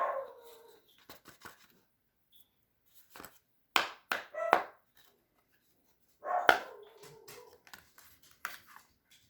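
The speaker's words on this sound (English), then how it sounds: "You can hear the guard dogs busy at work today in the background." Distant dogs bark in short bursts and clusters, faint and intermittent, with quiet gaps and some clattering between them.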